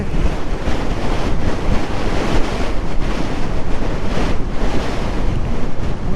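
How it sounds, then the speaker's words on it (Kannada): Strong wind roars and buffets loudly against the microphone in continuous gusty rushes, with no voices. "ಹೆವಿ ಗಾಳಿ ಗುರು ಈ ಪ್ಲೇಸಲ್ಲಿ ನನ್ನನ್ನೇ ತಳ್ತಾ ಇದೆ"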